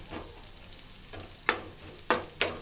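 Onions frying in oil for a sun-dried mutton fry, a soft steady sizzle with a few sharper scraping stirs of a spoon in the pan, fairly quiet and close.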